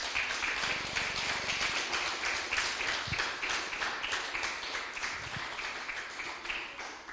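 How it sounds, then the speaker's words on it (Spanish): Spanish-speaking church congregation giving loud applause to the Lord during an afternoon service, a sustained crackle of many hands with a few sharper claps standing out, moderately distant and continuous. "Denle un fuerte aplauso al Señor, aleluya"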